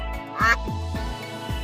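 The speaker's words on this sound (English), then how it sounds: "This is duck." Duck giving a quick series of about four short nasal quacks, close and fairly loud over a low background hum.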